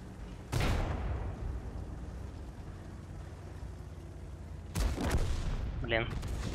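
Artillery fires in World of Tanks, two heavy booming blasts several seconds apart with a low rumbling tail after each, loud and near, with a voice speaking between them.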